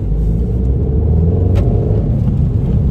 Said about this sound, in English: now it's time to drive the Abarth